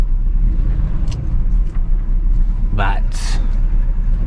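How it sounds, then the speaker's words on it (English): A 1973 GMC with a 454 engine idles in a driveway with a steady low rumble throughout, while a person speaks briefly over it. "I could probably turn up that idle just a little bit"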